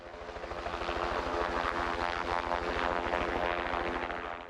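A helicopter spreading 1080 poison bait over New Zealand forests thumps its rotor in a fast, steady rhythm, growing louder as it approaches and staying close and loud.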